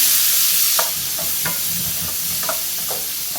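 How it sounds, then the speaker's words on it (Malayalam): Boiled vegetables get stirred into garlic frying in a pan. A constant sizzle runs under several sharp, close scrapes of a spoon, and nobody speaks. "ഇതിലേക്ക് നമുക്ക് ബോയിൽ ചെയ്ത് വെച്ചിരിക്കുന്ന വെജിറ്റബിൾസ് ചേർത്ത് കൊടുക്കാം. നല്ലതുപോലെ ഇളക്കി മിക്സ് ചെയ്യാം."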